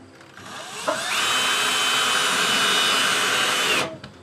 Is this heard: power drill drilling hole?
yes